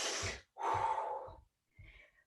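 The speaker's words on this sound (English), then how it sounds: "1 more deep breath" A deep breath during a home fitness workout: a long audible inhale and exhale followed by a fainter, shorter breath, close and quiet.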